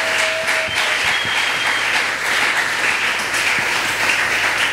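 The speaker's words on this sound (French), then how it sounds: "Est-ce qu'on peut encore ajouter des acclamations?" Church congregation applauding during a question-and-answer session with an apostle, a dense, steady wash of many hands clapping that stays loud and even throughout without any clear voice.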